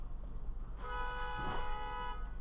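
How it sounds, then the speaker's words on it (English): Car horn honking in traffic, one sustained tonal blast lasting over a second above a low road rumble. "Who's honking?"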